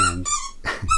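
A dog close by lets out a few short whiny yelps and whimpers in quick succession, high-pitched and squeaky.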